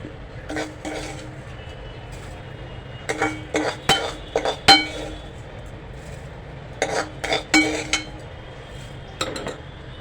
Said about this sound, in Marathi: मगाशी आपण हा लापसीचा रवा छानपैकी भाजलेला आहे तो आता आपल्याला या टोपामध्ये घालायचा आहे थोडा थोडा घेऊन घाला